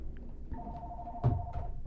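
A telephone rings for an incoming call during a live broadcast, giving a clear electronic tone with a soft thump partway through. Nobody speaks.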